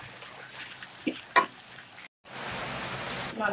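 Food frying and being stirred in a pan, a continuous crackling sizzle with a few scraping stirs, broken by a brief silent gap before the sizzle resumes.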